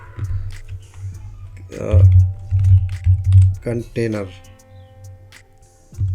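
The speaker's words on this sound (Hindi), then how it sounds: "फोल्डर्स पे आने के बाद यहाँ पे आपको टाइप करना है" Keystrokes on a MacBook keyboard, a quick run of light clicks close to the microphone, heard under a person talking.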